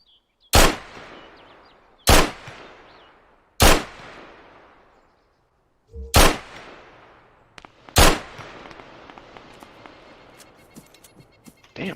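Gunfire in Arma 3: five loud, sharp shots ring out one at a time, a second or two apart, each with a fading echo, then lighter scattered clicks and rattles follow.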